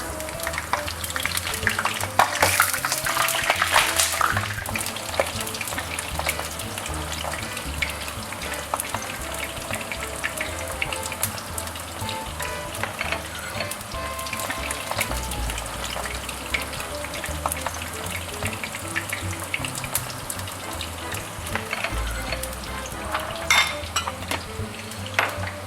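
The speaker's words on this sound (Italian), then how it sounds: "In quest'altra pentola mettiamo le nostre melanzane a friggere." Eggplant slices fry in oil in a pan, giving a steady, dense sizzle and crackle throughout, with occasional clinks of utensils against the cookware.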